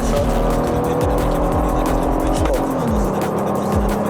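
A Toyota Land Cruiser Prado with 250 horsepower accelerating hard from a standstill, a loud engine roar climbing repeatedly through gear changes, with someone talking over the engine.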